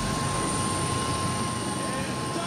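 A helicopter landing in the centre circle of a football stadium, its rotor and engine producing a steady, dense, loud roar with a constant whine throughout.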